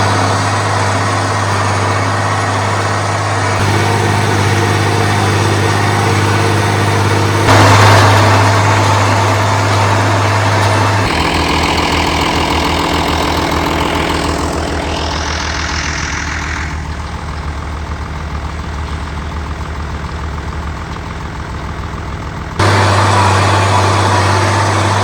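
Tractor engine idling and running steadily on a hay farm during alfalfa raking, a loud low droning hum with a strong constant rumble that shifts tone a few times, with no talk over it.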